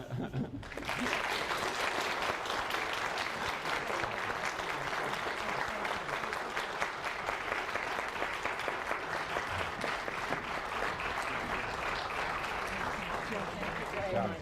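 A debate audience for the Wisconsin governor's race breaks into sustained applause, a dense and even clapping that carries on for the whole stretch at moderate loudness.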